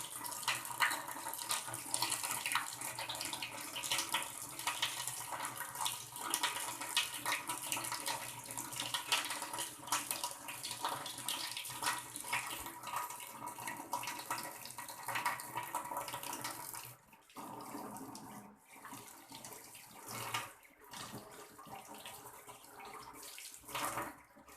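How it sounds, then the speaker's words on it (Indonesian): A tap runs steadily with a broad, continuous rush while hands are washed with soap during a six-step handwashing routine before a postpartum physical examination practical. The flow dips briefly near the end, then returns, with no talking. "Setelah itu kita buka keran, kita gunakan sabun"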